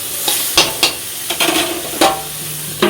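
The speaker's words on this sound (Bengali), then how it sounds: "নুন হলুদ দিয়ে বেগুনটা সুন্দর করে ভেজে নেব" Eggplant fries in a pan with salt and turmeric, a steady sizzle broken by stirring scrapes and soft clinks, close and fairly loud, with no talk.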